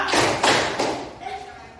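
A group of children claps a quick pair of times in a clapping game, giving sharp, close hand-clap bursts that fade into a quieter tail.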